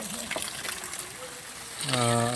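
Water splashing and trickling as fish are washed in a village setting, a near running splash under a voice talking.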